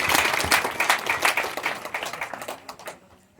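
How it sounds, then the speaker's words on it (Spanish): An audience applauding at an indigenous rights talk after a speaker is introduced, a burst of dense clapping from a room of people that thins out and fades to quiet by the end. "Démosle un aplauso"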